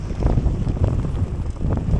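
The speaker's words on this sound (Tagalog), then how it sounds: "Napakalakas ng hangin." Strong wind roars across an outdoor mountain trail ride, buffeting the microphone with a loud, continuous low rumble that gusts unevenly throughout.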